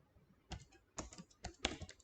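Java code being typed on a computer keyboard: a handful of separate clusters of key clicks arrive in short bursts about every half second, close and fairly quiet, with no voice.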